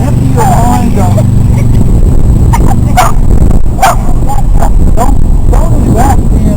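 A dog barks in short, sharp yaps scattered through the stretch, medium distance, with loud background noise and people talking throughout.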